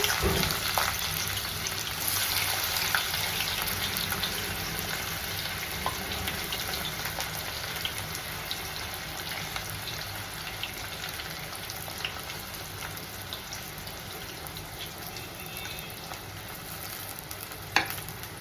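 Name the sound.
onions frying in hot oil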